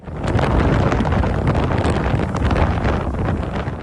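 Strong lodos wind on an Istanbul bridge buffets the microphone in a steady, loud roar that rumbles continuously without letting up.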